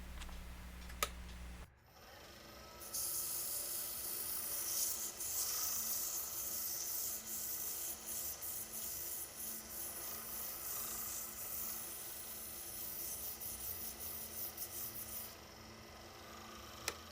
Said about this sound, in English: sand the long way in between grits to get rid of marks left by sanding on the lathe